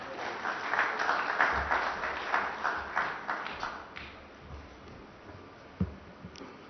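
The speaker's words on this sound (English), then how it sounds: "So huge round of applause," An audience at an awards ceremony gives a round of applause that comes through as moderate clapping in waves and fades after about four seconds, leaving a quiet room with a few faint taps.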